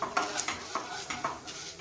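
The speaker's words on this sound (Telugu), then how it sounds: "వీటిని మంచిగా ఆయిల్లో ఫ్రై చేసుకోండి." Ingredients fry in oil for dosakaya pachadi, a Telugu cucumber chutney, with a steady sizzle under regular scraping strokes of a spoon stirring the pan, close and about twice a second.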